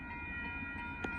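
Southbound Amtrak Texas Eagle 21 passenger train rolling by at a road crossing in Austin, Texas, a steady low rumble with a sustained horn tone and one brief sharp click near the end.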